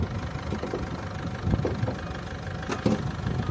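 A Ford Figo diesel engine idles steadily, a low continuous rumble with faint rhythmic knocking and a couple of brief clunks partway through.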